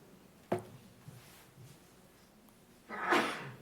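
A single sharp sneeze bursts out in a quiet town council meeting room, followed a few seconds later by a louder, breathier second sneeze, both fairly close against faint room hush.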